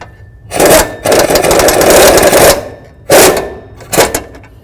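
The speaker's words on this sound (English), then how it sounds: "Now we're going to bottom out this bolt." A power tool drives a bolt on the rear shock absorber of a 2005–2014 Ford Mustang, running in loud, close bursts: two short runs, one longer sustained run, then two more short bursts.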